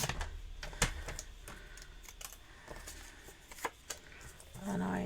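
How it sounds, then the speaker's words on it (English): Paper trimmer slicing a card sentiment, quiet close clicks and scrapes of the blade sliding through cardstock in short bursts, ending in a brief soft rasp. "we're just going to cut out our sentiment my normal way, which is just with my trimmer"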